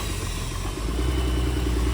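A limousine with a swapped-in Cummins diesel engine pulls away, giving a steady, loud, rumbling engine drone with a faint clatter that holds throughout, close by and with no voices.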